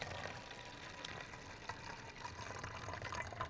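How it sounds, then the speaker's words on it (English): Water runs steadily into a plastic bottle, a continuous close gushing and trickling wash with faint higher splashes throughout, no talking. "We're going to fill this bottle up, and we may need to get more water from the sink."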